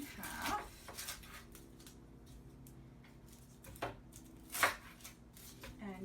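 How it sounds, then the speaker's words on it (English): A knife cutting an onion on a board, a few isolated soft chops and taps spaced irregularly against a quiet room background, close but faint. "So first I will cut my onion in half."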